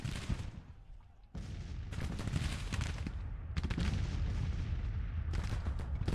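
Civil War troops fire musket volleys in Grand Tactician: The Civil War, with a sustained crackling fusillade of overlapping shots and booms. The firing breaks off briefly, then resumes louder and keeps going steadily to the end.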